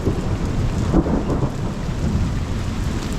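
Steady rain pours during a thunderstorm on a front porch, with a dull rumble of thunder rolling through near the start and constant broadband rain hiss throughout.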